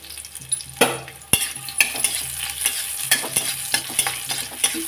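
Chopped onion dropped into not-yet-hot oil for masoor dal saag, a soft sizzle under repeated spoon stirring and scraping against the pan, with occasional clinks, close and fairly loud.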